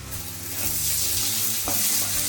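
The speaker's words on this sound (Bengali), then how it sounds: "এবার দিয়ে দেবো আদা বাটা, 1 চামচের মতো আদা বাটা।" Ginger paste going into onions already fried until reddish-brown sizzles loudly and steadily in the pan, with soft stirring scrapes over the constant crackle.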